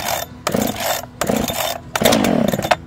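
A chainsaw is pull-started: three loud, separate bursts of sputtering engine noise, each a rough cranking rasp that dies back before the next pull.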